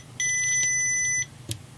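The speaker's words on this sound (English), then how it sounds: "the reason I added the feature of the piezo buzzer here with that button press" A piezo buzzer on an Arduino Nano and MPU6050 digital spirit level gives one loud, steady, high-pitched beep lasting about a second, followed by a faint click, over low background hum.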